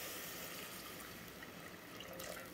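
Water pours steadily into a pot of beef ribs seasoned with pepper and salt until they are covered, a continuous close, splashing rush with no speech.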